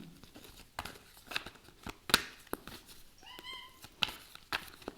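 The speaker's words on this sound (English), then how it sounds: "my cat, I think, wants to go out." A cat meows several times indoors, clear harmonic calls around the middle of the clip, alongside light tapping and rustling handling noises with no talking.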